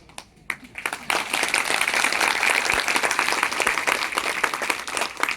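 A seminar audience marking a company's third anniversary bursts into sustained applause after a brief quiet start, many hands clapping densely and steadily at close range for several seconds.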